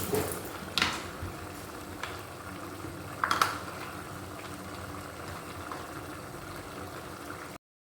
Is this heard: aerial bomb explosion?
no